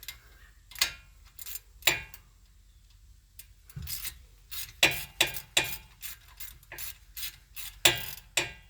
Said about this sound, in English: I'm going to switch to a 3/8 ratchet.